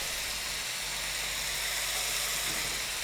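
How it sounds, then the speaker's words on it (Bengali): Ginger garlic paste hits hot oil with browned onions, giving a constant, even hiss of sizzling that stays steady and close throughout, with no talking. "এরপরে আমি এর মধ্যে দেবো 1 চা চামচ আদা রসুনের পেস্ট।"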